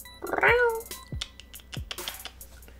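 A cat gives one clear, close meow with a rising and falling pitch, then goes quiet. A few soft clicks and light background noise follow.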